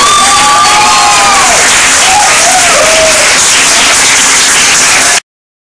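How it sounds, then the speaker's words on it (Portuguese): A church congregation at a religious retreat claps and cheers loudly, dense applause mixed with shouted voices and whistles, cutting off abruptly near the end. "Uma salva de palmas ao nosso Senhor Jesus."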